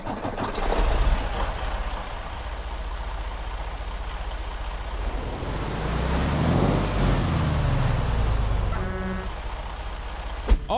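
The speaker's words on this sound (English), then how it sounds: "It's got Creech Bomb's awesome Detroit Diesel 15 engine sound set in it" A Detroit Diesel 15 truck engine of 455 horsepower in American Truck Simulator cranks and starts, then settles into a loud, steady low rumble and idle, with a short sharp hiss near the end.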